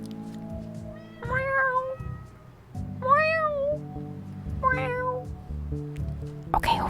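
A person imitates a cat with three drawn-out, pitched meows spaced a second or so apart, close to the microphone over a low hum, with a brief clatter at the end.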